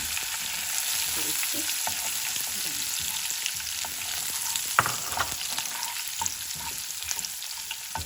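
Green chilies added to hot oil after mustard seeds for a tempering for semolina idli, giving a steady bright sizzle close by with a few light stirring taps.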